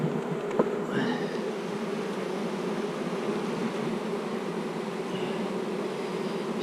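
A dense, steady swarm of bees buzzing around a beehive, close and loud, a continuous hum with occasional individual bees whizzing past.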